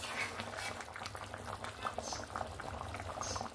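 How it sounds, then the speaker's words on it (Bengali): Fish curry gravy with rohu belly pieces, potato and pointed gourd bubbling in a pot, a steady close boil with dense popping and gurgling throughout, no voices. "ঝোলটা সুন্দরভাবে ফুটে উঠেছে।"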